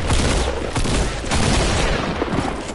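Dense gunfire from a shooter game, a continuous loud barrage of overlapping shots and booms filling the whole moment with no gap, close and heavy.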